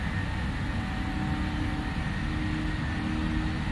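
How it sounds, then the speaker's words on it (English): Boeing 737-800 jet engines spool up for takeoff in a PMDG 737NGXu flight simulator, a steady, dense roar with a faint high whine that holds level throughout. "Engine spooling."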